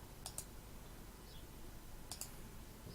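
Two faint, sharp mouse clicks, one near the start and another about two seconds later, over a quiet room hiss while working in After Effects editing software.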